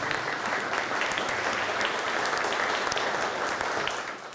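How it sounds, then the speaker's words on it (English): Audience applause at a startup community event on future mobility, steady dense clapping from a room of people that holds evenly for several seconds before tapering slightly at the end. "So, round of applause for Wassim."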